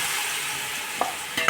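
Paneer cubes coated in masala sizzle over a low flame in a pan, a steady close hiss with a couple of brief scraping stirs near the end.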